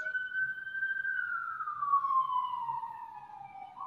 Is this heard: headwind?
no